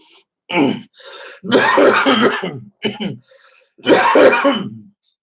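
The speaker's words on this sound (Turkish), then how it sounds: "Normalde gerçekten bu kadar öksürmüyorum" Several harsh coughs and throat clearings come in close bursts, loud and near, with short silent gaps between them.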